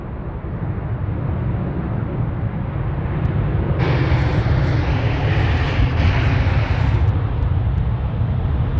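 A Qantas airliner at Sydney Airport roars steadily and loud, a broad jet engine rumble that swells and grows harsher partway through as it powers up on the runway, with no voices over it.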